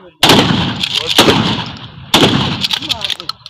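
Three loud gunshots from a gun fired in standing position at a shooting practice, sharp sudden blasts about a second apart, each trailing into a short echoing decay, with an instructor's commands nearby.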